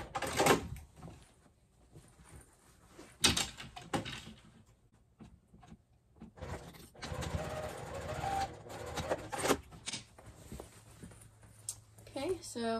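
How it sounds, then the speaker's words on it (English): A sewing machine bastes tote bag pieces in short, intermittent bursts of rapid needle stitching, quiet and close, with handling noises and a voice talking between runs. "I'm just going to go ahead and baste that in place"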